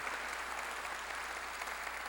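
A church congregation claps steadily and densely during a Korean sermon by Pastor C.S. Lee, a full room of hands sounding as one loud, even wash of applause with no voices over it.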